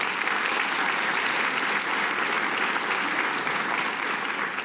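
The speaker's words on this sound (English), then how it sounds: "Let's give them a big round of applause." A crowd at a dropout-prevention charity breakfast gives a steady, full round of applause that stays even and sustained throughout, with no talking over it.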